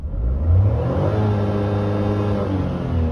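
A Maruti Alto K10 engine revs steadily upward toward high RPM, a loud, continuous rising drone close to the car, with no talk over it.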